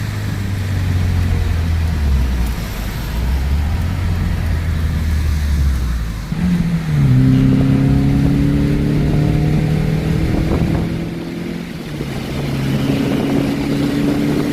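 A 1988 Volkswagen Scirocco accelerates hard, the engine droning low then rising through the revs in clear sweeps, with a gear change midway and steady road noise, loud and close from inside.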